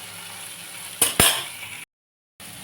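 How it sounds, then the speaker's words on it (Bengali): Okra (bhindi) frying in a home kitchen pan gives a steady, soft sizzling hiss, broken by two sharp utensil clinks against the pan, then a brief cut to silence before the sizzle returns. "এখন এটা আমি করে দিচ্ছি ভেন্ডি ভাজাটা গুড়িয়ার জন্য করছি"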